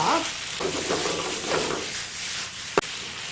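Ketchup stir-fried in a pan for a chopsteak, a soft steady sizzle with faint scraping stir strokes and one sharp clack near the end, with no talking.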